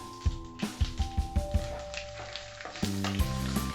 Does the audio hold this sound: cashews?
yes